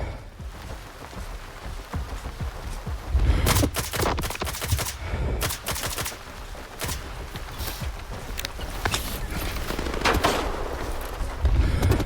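Rapid enemy gunfire in Stalker 2, with bursts of automatic shots crackling in dense clusters around the 3 to 6 second mark and again near the end, over a steady noisy background.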